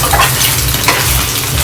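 Vegetables fry in a pan with a loud, close, steady sizzle and crackle, a dense frying hiss with some faint stirring texture running throughout.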